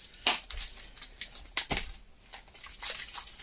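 Crinkling plastic and paper packaging rustles and tears as a new 88 airsal cylinder kit for a Derbi is unpacked, in close, irregular bursts.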